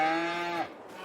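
A cow moos once in a Farming Simulator farm game, a loud, close, drawn-out bellow falling off at the end, heard alone without talk.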